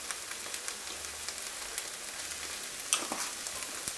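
Shrimp fry in a pan with a steady, soft sizzle and scattered light crackles, close by and fairly quiet, with no voices.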